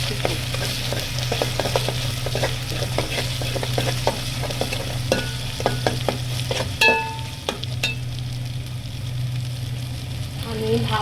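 A spice paste of ground cumin and garam masala fries and is stirred in a pan for a home-cooked winter dish, with a steady sizzle and scraping strokes all through, plus a low constant hum underneath.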